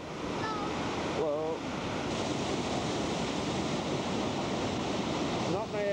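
A waterfall in parkland near Athens, Greece roars as a steady, broad rush of water, loud and constant throughout, with brief faint voices and chirps mixed in.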